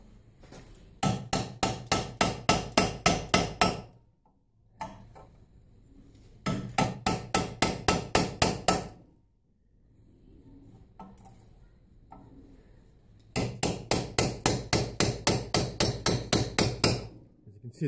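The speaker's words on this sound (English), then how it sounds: "I'm just going to take a chisel with a hammer and start bending it inwards and out." Three runs of rapid, evenly spaced hammer blows striking a chisel to bend a metal control arm bushing, about a dozen ringing hits each, separated by quiet pauses.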